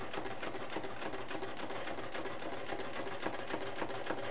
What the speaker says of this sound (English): start stitching again using that same point of reference